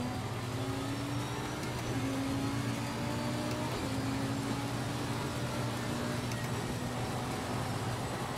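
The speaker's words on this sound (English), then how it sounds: "I love the amount of sound I'm getting from the whole drive line of the car" Steady mechanical whine and hum of a race car's drivetrain in Assetto Corsa Competizione, with a sustained low drone and gently shifting gear-whine tones running continuously without any talk.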